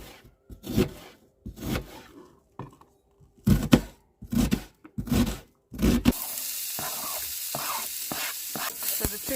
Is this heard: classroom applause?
no